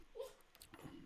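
A 14-week-old puppy gives a short, faint whimper indoors, a quick high whine followed by soft rustling.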